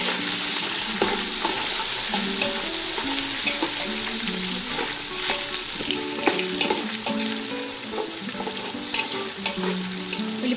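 Sliced onions and green chillies fry in hot oil in a pan for Ambur-style chicken biryani, crackling in a dense, loud sizzle with frequent spatula scrapes and stirs throughout.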